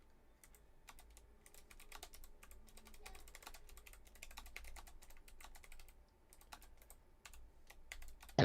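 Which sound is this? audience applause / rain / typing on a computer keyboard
typing on a computer keyboard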